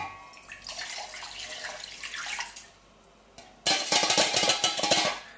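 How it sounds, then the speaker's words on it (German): Brown sauce is poured through a strainer in a home kitchen: a soft trickle and splash, then a pause, then a louder burst of pouring liquid with dripping and clinking toward the end. "Die Soße wird abgeseiht."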